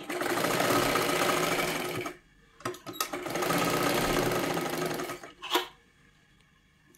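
A sewing machine stitches a size 36 katori blouse in two long, steady whirring runs separated by a pause, with a few short clicks and clunks between and after them.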